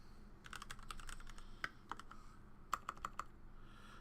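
Light rapid keystrokes on a computer keyboard, a quick run of soft clicks followed by a few sharper isolated taps, close and quiet.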